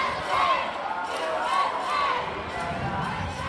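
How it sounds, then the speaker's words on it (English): A crowd at a Dodgeball World Championships match cheers loudly for Northern Ireland, producing a continuous roar that swells and eases slightly. Commentary is spoken over the crowd noise. "now we finally hear the crowd go wild for the Northern Ireland cheer"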